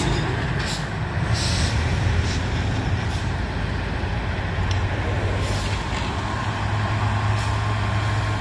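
Heavy Hino Trinton truck engine rumbling steadily at close range, a deep continuous drone with occasional hissing bursts like air brakes, on a hilly road with other trucks nearby.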